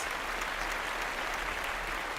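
Audience at a fashion show gives a round of applause, a steady, even wash of many hands clapping at moderate distance without pause.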